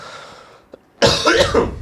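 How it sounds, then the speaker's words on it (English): A single loud, harsh cough bursts out close by after a quiet moment, with no talking. "I've been fucking coughing all day"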